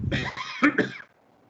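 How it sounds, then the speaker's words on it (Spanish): A person coughs close up in a quick cluster of two or three harsh, throaty coughs, then falls quiet. "Ya me dio tos."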